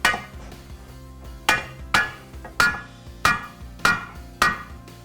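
A hammer taps a part into a car strut held under pressure from a jack: seven sharp, evenly spaced metallic knocks, close and loud, each ringing briefly before the next.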